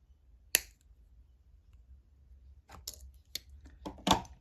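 Small cutters snip the wire end off a wire-wrapped jewelry chain link, giving a sharp isolated click followed by a few lighter clicks and taps in a quiet room.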